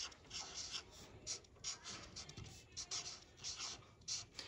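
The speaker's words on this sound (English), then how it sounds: "I'm going to use marker and I'm going to write be kind" Marker writing words on a paper leaf, a faint squeaky scratching in short strokes with brief pauses between letters, close but very quiet.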